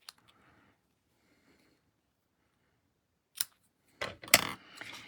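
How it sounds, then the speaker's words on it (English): Scissors snip ribbon ends at an angle while making a bow for a handmade card, a few sharp close cuts and rustles after a long quiet stretch. "I like to cut my ends at an angle."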